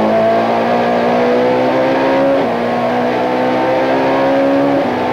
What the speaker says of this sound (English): The Stannic Saccars quickly accelerate to well in excess of 200 k's an hour down the start-finish straight